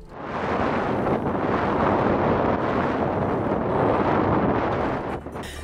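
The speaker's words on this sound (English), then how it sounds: "Out of nowhere, the weather abruptly shifted and the wind picked up tremendously" Strong wind roars at sea aboard a sailboat, a dense, loud and steady rush with buffeting against the microphone that holds for about five seconds before easing slightly at the end.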